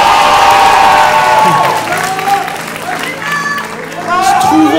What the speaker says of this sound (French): est-ce qu'on peut les applaudir bien